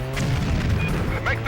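Explosion in the Stuntman video game, a loud, dense burst of rumbling crash that fills the short moment with sustained roaring debris noise.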